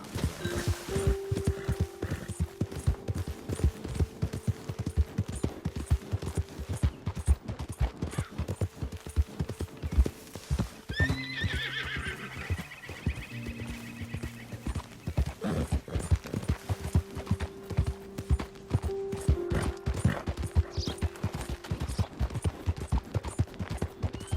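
Rapid galloping hoofbeats of a horse in Red Dead Redemption 2 pound steadily throughout, with a brief whinny partway and faint game ambience behind.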